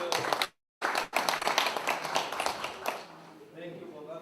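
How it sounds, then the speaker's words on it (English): Audience applause at an indoor government planning conference session on automating M&E processes, a dense burst of clapping from a room of people that breaks briefly, resumes, and fades out toward the end. "thank you for that round of applause for Dr. Bosco for that good presentation."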